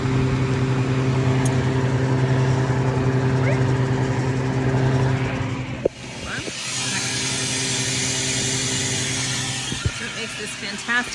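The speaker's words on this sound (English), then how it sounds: "first I have to open the drain valve to vent" A freeze dryer hums steadily until its drain valve opens, then a rushing hiss of air vents and releases the vacuum, continuing loudly to the end, with someone talking over it.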